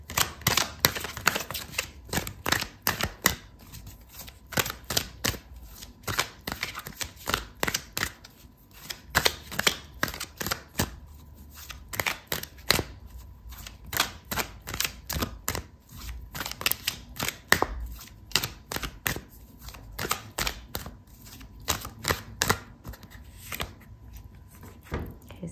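Tarot cards are shuffled and drawn by hand in a steady run of dense, crisp flicks and snaps lasting the whole stretch, close and fairly quiet, with no talking over it.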